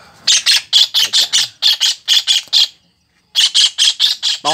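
A red-whiskered bulbul singing loudly in short, bright, squawky bursts repeated in quick rhythmic runs, very near and clear, with one brief pause before the phrases resume.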